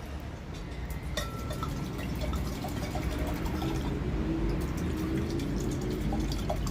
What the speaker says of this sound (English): I'll pour the wine.